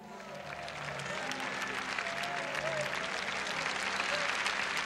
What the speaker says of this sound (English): Give him a clap offering.